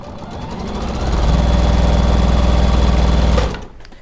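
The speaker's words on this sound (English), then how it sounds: "I'm going to sew that right sides together now." A sewing machine stitches colourful quilt pieces right sides together in one loud, close, continuous run of rapid rhythmic needle chatter. It stops abruptly near the end, with no voices.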